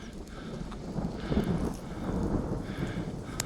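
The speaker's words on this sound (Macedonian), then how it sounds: "О, грми." A low, distant rumble of thunder rolls and swells for a few seconds outdoors near a village church, with light rain and faint background noise.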